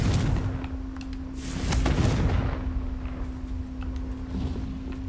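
Confringo explosive fire spells blasting in Hogwarts Legacy: rumbling booms and crackling bursts roll over one another in a continuous, heavy barrage, with a low electrical hum underneath and no talking.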